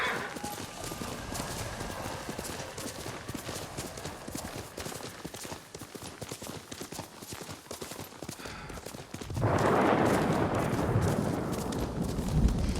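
Horse hooves clip-clop at a steady rhythm as a mount travels in Ghost of Tsushima, close and even throughout, with the game's ambient sound growing louder near the end.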